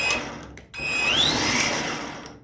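A Kobalt 24-volt brushless string trimmer starts up after a short pause, its motor spinning up to a steady, close, high whine that rises in pitch, then runs on alone.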